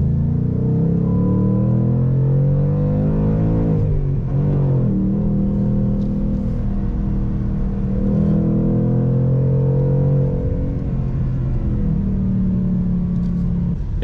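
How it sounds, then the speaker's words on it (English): A 2019 Ford Mustang Bullitt with a manual gearbox accelerates through its gears, giving a loud, steady engine rumble that dips briefly at a shift before climbing again. No one talks over it. "It's very crisp how these things accelerate. The acceleration is so smooth."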